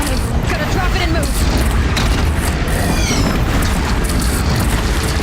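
Cannon fire amid a crumbling city in the video game Horizon Zero Dawn, with loud, continuous booming rumble and crashing debris, overlaid by a voice talking.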